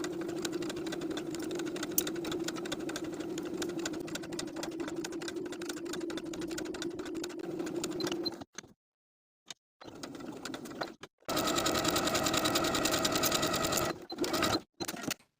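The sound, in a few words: sewing machine stitching lace onto a top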